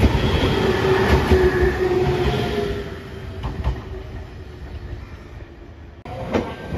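A JR Shikoku 7000 series two-car local train rolling through a station, a loud, close rumble of wheels and motor with rhythmic rail clatter and a faint squeal, the noise easing slightly as it passes.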